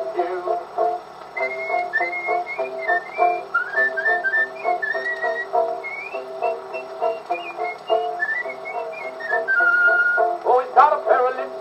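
Man whistling a melodic tune on an old vaudeville recording, bright wavering pitch runs over a steady band accompaniment, continuous for the whole stretch and ending in a flourish.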